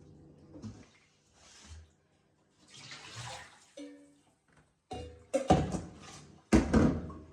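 Chicken pieces washed by hand in a basin of water, with intermittent splashing and sloshing bursts and soft thunks, getting louder and busier toward the end with gaps of near silence between.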